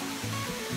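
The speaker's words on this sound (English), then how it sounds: "This is the main waterfall." A high waterfall at a Philippine mountain resort, a constant roaring rush of falling water, steady and moderately loud throughout with no voices.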